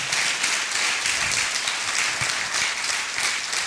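A church congregation applauds together during a Spanish-language worship service, a steady, dense wash of clapping that holds evenly from start to finish with no voices rising above it.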